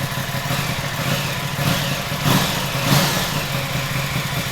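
An Aprilia Tuono 660 parallel twin motorcycle engine idles steadily with a low, gurgling rumble and slight swells in loudness, close by and continuous.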